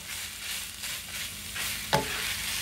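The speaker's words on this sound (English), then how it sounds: "I'm going to let this onion saute some in this meat." Chopped onion sautéing with ground meat in a pan, a continuous close sizzle with a couple of stirring scrapes and one sharper clack of the utensil.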